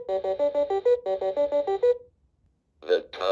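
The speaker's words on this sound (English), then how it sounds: "So I wanted to hear the alarm" A 1980s talking alarm clock sounds its alarm as a bright electronic melody repeated twice, then goes quiet before a synthesized voice begins speaking.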